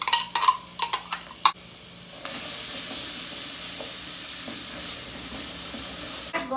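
Meaty, low-fat bacon frying in a pan, with a few sharp scraping stirs and clinks of a utensil at the start, then a steady close sizzle for the rest.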